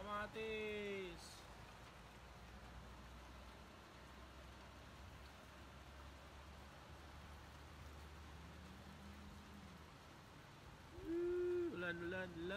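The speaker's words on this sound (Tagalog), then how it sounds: "Ulan, ulan, ulan. Unang ulan ng taon." Rain patters steadily on surfaces during a hailstorm, a soft continuous hiss at low volume, with brief tonal sounds at the start and end.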